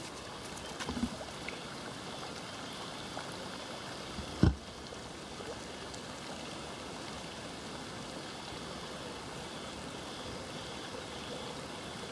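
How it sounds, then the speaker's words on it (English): A steady, continuous wash of running water from a stream near Pearly Ponds at Pearl Beach on the Central Coast, even and broadband throughout with one brief knock partway. "Sound of running water."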